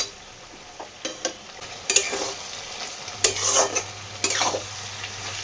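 A spoon stirs a potato, bean and eggplant curry cooked in fish oil in a pan, with scraping strokes and clinks against the metal over a soft sizzle.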